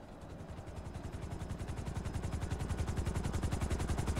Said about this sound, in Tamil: அடா, ஹெலிகாப்டர்லாம் வருது.